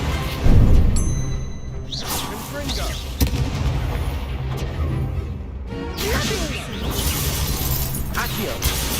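In the Hogwarts Legacy video game, an Incendio fire spell is cast amid combat, with whooshing flame bursts, shattering impacts and crashes layered over game music, while a player shouts.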